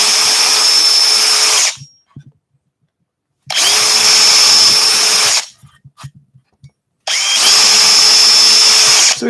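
Power drill boring through craft-fair workshop sign wood, three sustained loud bursts of about two seconds each separated by short pauses with faint handling clatter, no talking.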